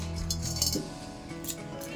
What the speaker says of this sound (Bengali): এবার কড়াইটা বসিয়ে দেবো